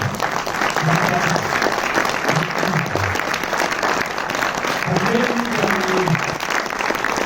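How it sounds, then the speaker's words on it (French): Audience applause for a film director after a screening, dense continuous clapping from a large crowd throughout, with a voice speaking over it. "un wagon d'applaudissements pour le réalisateur du film"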